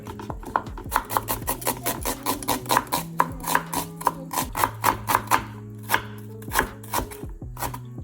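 A knife chops thinly through shallots on a cutting board in a quick, steady run of crisp, close taps, slowing to a few spaced strokes near the end, with no talking.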